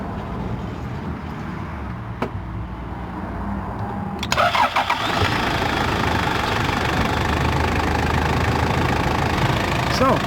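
A Toyota Land Cruiser diesel engine cranks and catches about four seconds in, then settles into a steady, rough, loud idle that carries on alone after a quiet stretch with a few faint clicks.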